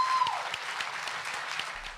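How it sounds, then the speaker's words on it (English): A big round of applause fills a school board meeting after a vote against layoffs: dense, steady crowd clapping throughout, with a brief tonal sound at the start. "Ultimately, the board voted not to go through with the layoffs, followed by a big round of applause."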